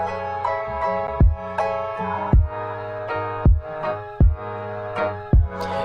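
Piano sample beat with a side-chained kick drum, made for a game soundtrack: sustained piano chords pump in level as a deep kick lands roughly every second, steady and loud, instrumental only.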